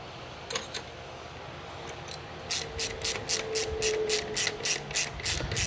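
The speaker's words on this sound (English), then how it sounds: "let's go ahead and tighten this bolt up" A ratchet wrench tightens a bolt on a Jeep Gladiator 3.6 engine, making a fast run of crisp, evenly spaced clicks close by after a quieter stretch of workshop background, with no talk.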